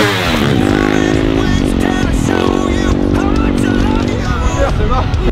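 Motorcycle launching off a ramp, its engine revving loudly and continuously up close amid lively crowd babble and talking voices.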